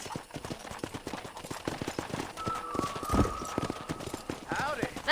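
Hooves clip-clop in a steady, close gallop beneath talking voices in the Red Dead Redemption video game, and a horse whinnies partway through.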